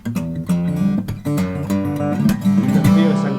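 An acoustic guitar is strummed and picked close by, its strings ringing with rich, layered overtones and sustained chords over about three seconds, without any talking.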